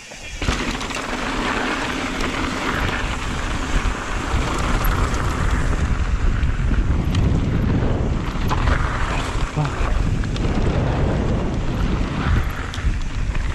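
Strong wind buffets the microphone during a mountain bike ride at Curt Gowdy State Park in Wyoming, a loud constant low roar and rumble that lasts throughout with no clear breaks.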